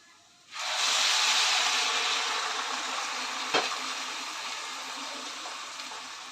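Hot water poured into a pan of Bengali fish head curry (macher muri ghonto), a steady broadband hiss and sizzle that rises abruptly and holds for several seconds with a brief crackle midway.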